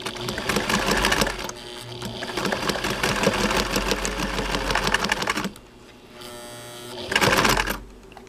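A Spartan sewing machine stitches through thick wool roving in a loud, steady motor whir with a fast rhythmic needle chatter, pausing briefly before a final short burst.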